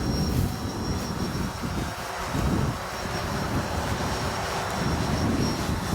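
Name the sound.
strong wind blowing around a flying Phantom 4 drone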